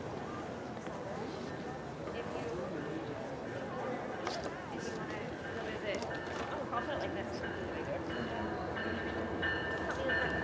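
A passenger train hauled by a Charger locomotive rolls into Fullerton station bound for San Diego, a continuous rumbling roar with scattered clanks and squeals, while voices talk over it.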